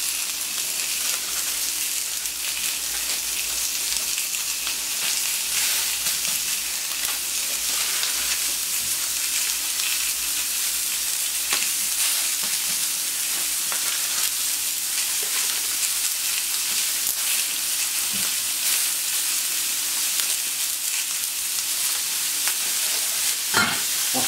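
Burger meat cooking in a pan, a steady crackling sizzle that runs evenly for a long stretch, close-up with faint scattered pops and no voices.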